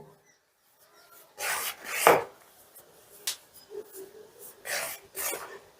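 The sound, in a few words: rubbing ghee into flour by hand for kachori dough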